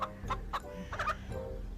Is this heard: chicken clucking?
yes